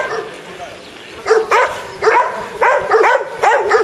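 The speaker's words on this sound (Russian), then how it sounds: "Всех собак перебудили." Several dogs bark in short, sharp bursts in a residential area in Israel at night, with clustered yips recurring in irregular groups at moderate distance over low background noise.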